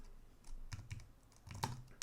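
Code for IBM i RPG being typed on a computer keyboard, a quiet, close run of a handful of irregular key clicks in short bursts.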